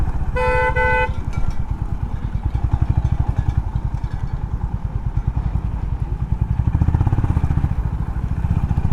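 Honda CB350RS motorcycle in second gear on the road, its engine a close, loud, rapid even thumping throughout, with a brief vehicle horn honk near the start.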